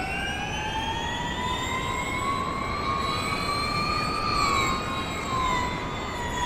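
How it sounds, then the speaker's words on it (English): A high-pitched Porsche Mission R racing engine whine in the iRacing video game at Watkins Glen holds steady, its tones rising and dipping slightly as it revs, loud and continuous with no voices. "Someone's revving it."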